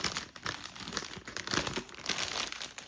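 Packaged colours being unwrapped, with plastic packaging crinkling and rustling continuously in close, busy bursts.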